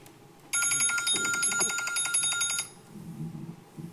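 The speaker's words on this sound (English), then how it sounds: "I heard the timer." A timer or alarm goes off during a county committee meeting, a rapid electronic trilling ring lasting about two seconds, loud and close, with low room murmur before and after.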